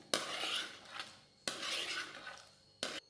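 A spoon clinks and scrapes around a glass while jackfruit juice with sago is stirred, three separate bursts of close, bright ringing strokes with brief pauses between.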